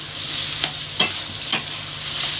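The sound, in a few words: chopped tomatoes stirred and frying in oil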